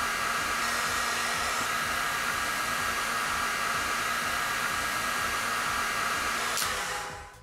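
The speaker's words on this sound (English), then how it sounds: "I put the heat gun at the maximum temperature, and I direct the hot air upwards so as not to burn anything" A heat gun at maximum temperature blows a steady, loud rush of hot air while soldering a diode bridge connection on an alternator, running continuously before cutting off at the end.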